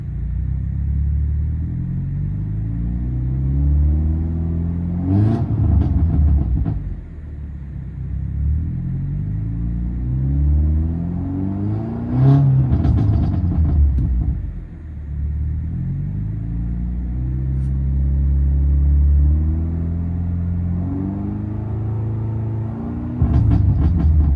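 A 2016 BMW F30 with full modifications revs in Sport Plus mode, its engine rising and falling through several deep throaty surges, loud and close, with a few sharp pops and crackles between the revs.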